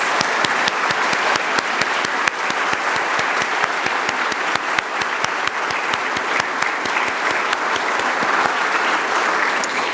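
An audience at a city's State of the City address gives a sustained round of applause for community partners, with rhythmic, steady clapping that continues evenly from start to finish and little talk.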